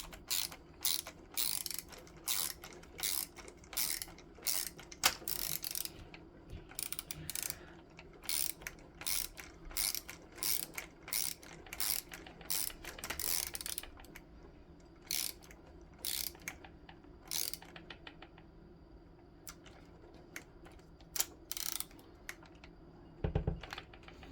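A screwdriver drives a screw back into a Traxxas Rustler RC car during a caster and front bumper repair, producing repeated close ratcheting clicks in short bursts with brief pauses, ending in a single low thump.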